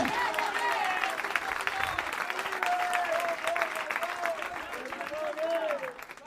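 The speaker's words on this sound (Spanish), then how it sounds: "Se puede sacar un aplauso de alabanza" A church congregation breaks into applause of praise, a dense wash of clapping lasting several seconds while a voice and sustained tones carry faintly above it.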